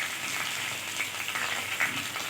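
Marinated chicken steak frying gently in a pan over low heat gives a soft, continuous sizzle with faint crackles and pops, heard alone at close range.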